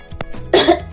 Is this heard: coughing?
yes